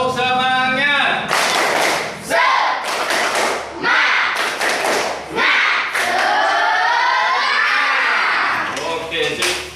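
A classroom of children performs a rhythmic spirit clap, loud, close clap bursts in a patterned beat mixed with group chanting voices throughout.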